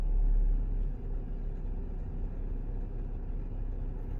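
A BMW car engine idling, a low steady rumble with a heavier surge at the start that settles into an even hum.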